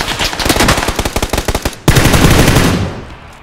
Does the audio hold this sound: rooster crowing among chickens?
no